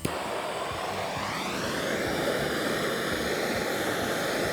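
A plumbing torch roars steadily while heating copper pipe to solder an angle stop, a constant close hiss with a faint shifting tone as the flame plays on the fitting.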